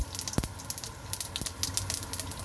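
Mustard seeds crackling in hot oil, a dense close hiss of sizzling with rapid scattered pops and a couple of louder spits, steady throughout.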